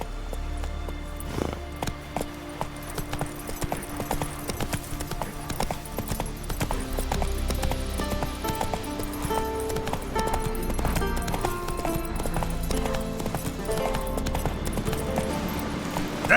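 A horse's hooves clop in a fast, steady gallop rhythm in The Witcher 3 video game, set under a swelling music score, with a brief voice at the start.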